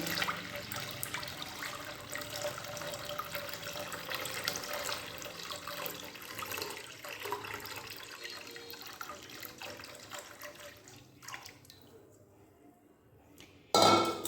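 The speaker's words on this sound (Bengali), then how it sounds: "আস্তে আস্তে দুধটা ঢেলে দিচ্ছি।" Milk poured slowly into a wok holding a little water, giving a steady liquid pouring and splashing wash with no talk, thinning out toward the end.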